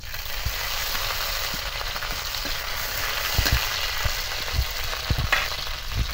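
Slit green chillies sizzle in hot oil, a steady loud frying hiss throughout with a few sharp pops and crackles, no voices.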